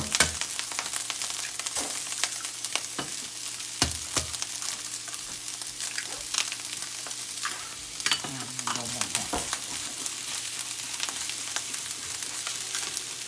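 Eggs fry in a pan for fried rice, giving a soft, steady sizzle broken by scraping and stirring clatters, heard close and fairly quiet.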